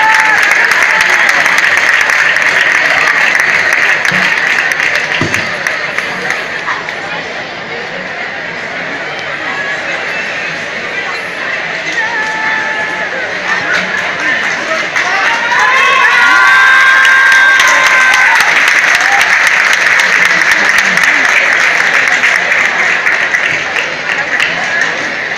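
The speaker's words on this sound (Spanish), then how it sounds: "demos nuevamente otro fuerte aplauso a estos jóvenes talentos del estado de Morelos." Sustained crowd applause and cheering at a secondary school awards ceremony in Morelos, honoring young talents; dense, loud clapping with shouts and whoops from the audience, children's voices mixed in, swelling again toward the end.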